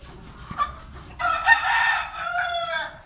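A rooster crows loudly and close, a long drawn-out call following a few short clucks from the chickens in the coop.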